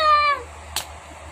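A person imitates a cat with one drawn-out, close, clear meow, followed by a short soft noise and then quiet.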